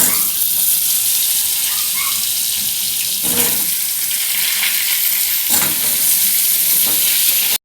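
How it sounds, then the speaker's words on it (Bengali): Potatoes fry in a pan of hot oil, a loud, continuous close-up sizzle with occasional clatter of stirring throughout. "দেখো আলু ভাজা হবে এবার।"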